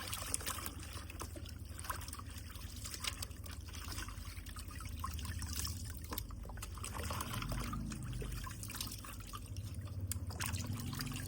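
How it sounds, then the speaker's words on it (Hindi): Water poured out of a tub after washing beef tripe (cow stomach) near a washing machine, a steady trickling and splashing stream that runs continuously, close and moderately loud. "ये पानी आप गिरा दूंगी,"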